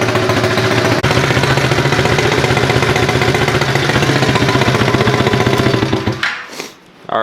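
A Chinese pit bike engine runs loud and close with a rapid, rough chugging idle for about six seconds before cutting out and briefly catching again.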